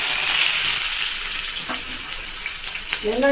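Onions and garlic sauté in oil in a pan for egg gravy, giving a steady close sizzle with a few light stirring clinks near the end.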